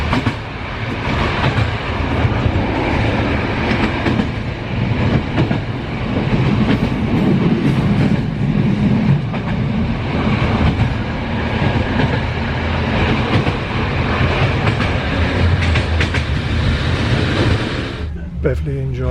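Steady rumble and rattle of a passenger train rolling along the rails between Sofia and Veliko Tarnovo, Bulgaria, continuous throughout with faint voices mixed underneath.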